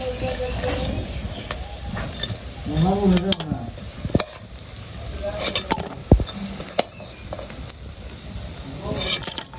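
Bora fritters frying in a pan, a continuous sizzle broken by repeated utensil stirring and scraping clicks against the pan, with a brief voice partway through.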